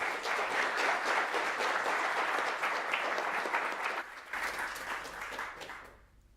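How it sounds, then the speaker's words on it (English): Audience applause for an invited speaker at a JWST (James Webb Space Telescope) science conference session, a dense steady round of clapping from a room that holds for about four seconds, then thins and fades out. "let's give our invited speaker another round of applause."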